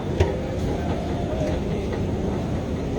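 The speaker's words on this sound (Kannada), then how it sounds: "ಹತ್ತುತ್ತಾ ಇದ್ದೀವಿ ನೋಡಿ metro station Majestic Kempegowda metro ನಿಲ್ದಾಣ" A metro train rumbles steadily through the enclosed Majestic Kempegowda metro station in Bengaluru, with a low continuous roar and a few faint clicks and knocks.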